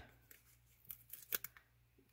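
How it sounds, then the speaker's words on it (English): Scissors snipping craft paper while making a snow-front shaker card, a few quiet, brief cuts clustered near the middle, close and crisp against a soft background hum. "I need some scissors."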